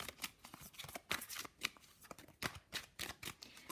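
A deck of love oracle cards is shuffled by hand, giving a quick run of soft riffling bursts and papery flutters in an uneven rhythm, close and fairly quiet.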